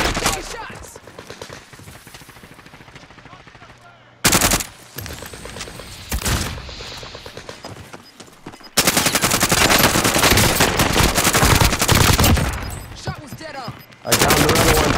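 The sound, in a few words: gunfire in a shooter video game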